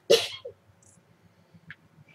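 A character in the video game Grow Home sneezes once, a sharp loud burst at the start, followed by quiet soft chirps and small game sounds.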